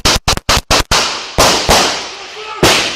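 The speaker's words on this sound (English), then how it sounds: "23 shots fired!" Police officers fire a volley of gunshots inside a liquor store: four or five sharp, loud, rapid shots in quick succession, then three more spaced shots that echo and decay in the room.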